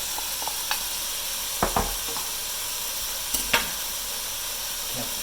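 Cauliflower sizzles and hisses steadily in a hot pan, holding an even frying hiss throughout, broken by a few sharp clicks and scrapes as the pieces are stirred.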